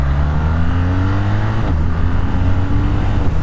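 A 2025 BMW R12S air and oil-cooled boxer engine runs close by with a steady, throbbing drone, its pitch dipping briefly midway and then settling back.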